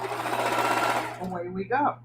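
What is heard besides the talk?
sewing machine stitching mudcloth binding on a diagonal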